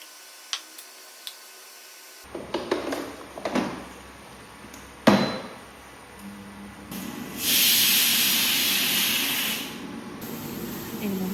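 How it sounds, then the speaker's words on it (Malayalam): Sardines dropped one by one into hot oil in a home kitchen set off sharp hissing bursts that swell into a loud, steady sizzle, with a few clicks and knocks of utensils. "ചാള വറുക്കാനായിട്ട് ഞാൻ ഓരോന്നായിട്ട് ഇടുന്നുണ്ട്"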